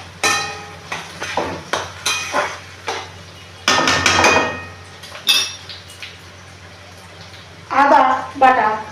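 Chicken curry stirred in a pot, with repeated metallic scrapes and clinks of a utensil against the vessel in uneven bursts, set against ongoing conversation.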